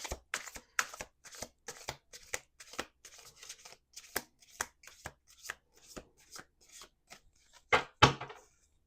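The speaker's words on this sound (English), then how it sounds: "Two more shuffles." A rapid series of crisp, papery riffles and slaps from a shuffled card deck, likely tarot, repeats in bursts, ending with a louder flurry near the end; no talking.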